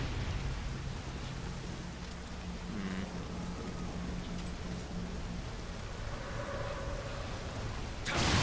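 Steady rain in the Nioh video game, a continuous hiss of falling water with a faint low rumble like distant thunder, swelling louder at the very end.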